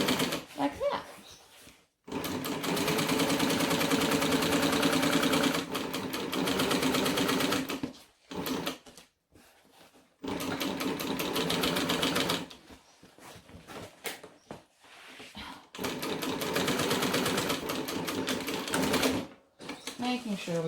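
A sewing machine stitches a bulky vinyl bag with heavy hardware in long, rapid whirring bursts broken by short stops, close and steady, with a person talking between runs.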